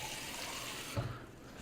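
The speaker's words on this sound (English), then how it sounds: "fill it up with water." Water pours through a funnel into the tank of a PurSteam Professional steam mop, a steady close trickling gush that briefly deepens with a gurgle before thinning out.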